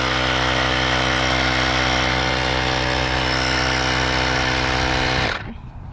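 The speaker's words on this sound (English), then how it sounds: "you just press the on-off switch, and we're pumping air." Portable tire inflator pump running steadily and loud up close while filling a car tire on a Fiat 124 Spider, a continuous droning buzz that cuts off abruptly near the end.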